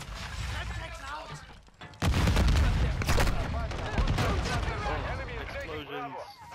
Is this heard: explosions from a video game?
yes